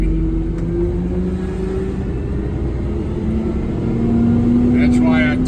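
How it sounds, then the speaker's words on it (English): A car backs out of a parking space nearby, its engine humming steadily with a tone that shifts slightly as it moves; no voices. "That car just backed out."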